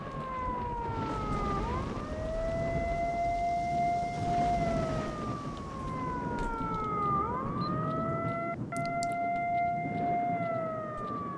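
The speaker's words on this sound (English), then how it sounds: "Is this the siren? Can we turn it off?" An alarm siren in the video game S.T.A.L.K.E.R.: Shadow of Chernobyl wails in slow rising and falling cycles, fairly faint and steady throughout with no talking over it.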